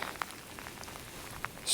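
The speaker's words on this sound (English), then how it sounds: "the rain has picked up again" Rain falling on open ground during a metal-detecting outing in stormy weather, a soft steady hiss with a few louder drops pattering close by.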